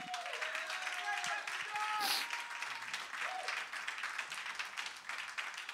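Church congregation clapping for the Lord during a worship service, a dense wash of hand claps with voices and shouts rising through it, loudest around the middle and continuing steadily.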